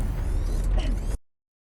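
Heavy mechanical spaceship door in The Expanse sliding shut: a loud rumbling, creaking mechanism that grinds for about a second and then stops abruptly.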